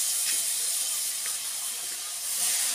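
Tomatoes hit a pan of cooking vegetables, giving a steady, close, bright sizzling hiss that holds evenly throughout with small crackles and no talk.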